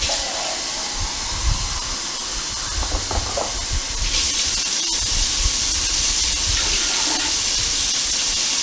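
Cans of water are poured into a pot of cabbage rolls with a steady, close splashing rush. The flow shifts and grows brighter partway through as a second can goes in.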